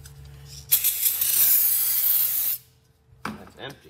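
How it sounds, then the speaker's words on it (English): Brake cleaner sprayed from an aerosol can onto the rear brakes of a Ford Taurus: a loud, steady hiss lasting about two seconds, then a short second burst after a pause. "We're gonna use some brake clean."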